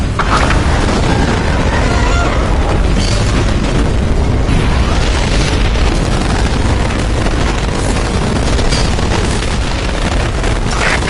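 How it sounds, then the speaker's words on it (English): Heavy cannon fire and explosions rumble in Earth Defense Force 6, a dense, continuous barrage of booms and bursts filling the whole stretch with loud, saturated noise and no pauses. "Copper cannon ready to fire."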